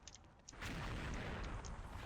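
A deep, rumbling video game explosion erupts after a brief moment and sustains as a loud, roaring boom that fills the whole clip.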